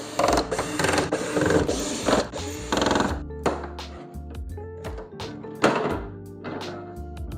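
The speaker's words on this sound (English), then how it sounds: "So now I'm going to take off these bolts and see what's underneath." Bolts coming off the access hatch on a Pontiac Solstice while an EVAP leak (P0455) is traced: a run of close metallic thunks, clanks and ratcheting taps, busy at first and then thinning to scattered knocks, with no talk.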